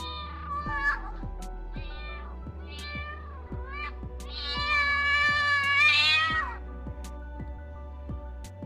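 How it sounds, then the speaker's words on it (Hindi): A cat meows several times, the calls building into a long, drawn-out yowl, over a steady rhythmic music beat. "कैट,"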